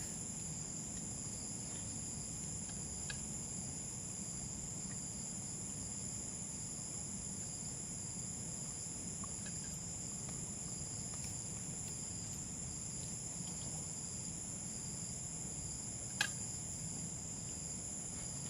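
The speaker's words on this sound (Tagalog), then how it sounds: "Tapos naririnig mo yung mga kuliglig." A steady, high-pitched chorus of crickets trills without pause at night in the rural Philippines, constant and moderately loud, with a single faint click near the end.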